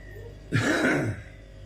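A man clears his throat once, a short, rough, close guttural rasp in a quiet room.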